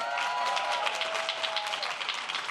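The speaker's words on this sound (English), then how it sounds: "Give her a big round of applause." A town hall crowd applauding, a short, even burst of many hands clapping that holds steady at moderate loudness.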